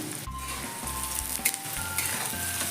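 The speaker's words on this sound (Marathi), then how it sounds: "कांदा चांगला भाजून घ्यायचा आहे" Onion and curry leaves fry in hot oil in a kadai. The crackling sizzle is close and busy, with repeated low scraping strokes of a spoon stirring against the metal.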